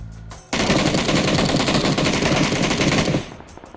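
Automatic gunfire in PUBG bursts in after a brief lead-in: a dense, loud, continuous rattle of rapid shots lasting about three seconds, then cuts off into quieter clicks.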